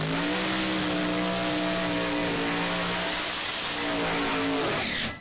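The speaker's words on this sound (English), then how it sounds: "It's a pro stock style car." A Monte Carlo-bodied pro stock drag car with a 665 cubic inch, 1500 horsepower engine revs hard, a loud sustained roar whose pitch climbs and falls, close and dominant throughout before cutting off.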